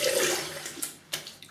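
Cold tap water splashes during a face rinse after shaving, a close wet rush that fades, then a couple of brief sharp splashes near the end.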